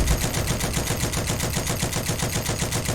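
Maxim Tokarev MT light machine gun in the Heroes and Generals video game, firing one sustained loud automatic burst of rapid, evenly spaced shots with no talking.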